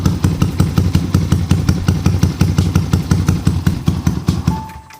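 A Yamaha Vixion motorcycle with a 63-valve stock-spec engine idles with a fast, steady thumping pulse, loud and close, held just above stalling and fading slightly at the end.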